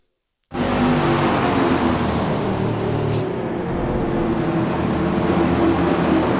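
Street stock race cars roar past on a dirt oval, engine noise rising abruptly and holding as a dense, sustained drone of several cars running together.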